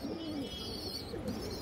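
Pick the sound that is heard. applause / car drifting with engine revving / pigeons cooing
pigeons cooing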